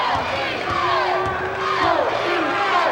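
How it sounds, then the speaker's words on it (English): A loud sellout basketball crowd in Bloomington cheers and roars continuously at a 1995 Indiana versus Michigan State game, with rising shouts and whistles swelling throughout. "Another sellout crowd tonight. And it's been louder already,"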